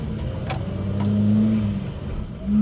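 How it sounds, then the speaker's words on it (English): Ford Fiesta mk1 with a 1.1 litre, 53 horsepower engine pulls out of a junction, its engine note rising steadily as it accelerates, near and fairly loud, with no talking. "Pulling out of junctions like that one is absolutely no problem in the Fiesta"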